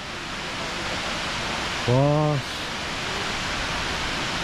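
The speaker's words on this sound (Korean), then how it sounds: "지금까지 살면서 본 폭포 중에 제일 멋있는 것 같아요" Tumpak Sewu waterfall in Indonesia roars as a constant broadband wash. Midway a person lets out a brief exclamation of awe over the steady rush.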